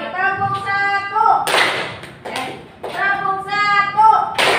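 Rhythmic hand clapping in a classroom counting exercise, a few sharp claps in a pattern between a teacher's spoken counting.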